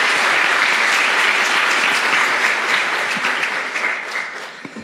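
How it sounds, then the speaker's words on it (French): A large audience bursts into loud, dense applause that fills the whole stretch and fades slightly toward the end, with no voices over it. "Encore une fois, une bonne main d'applaudissements pour Dr."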